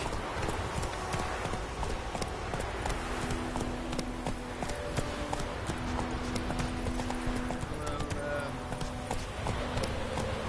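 Roach, a horse in The Witcher 3: Wild Hunt, gallops in a steady, rapid clip-clop of hooves held close and loud throughout, over a background of game ambience and faint tonal sounds.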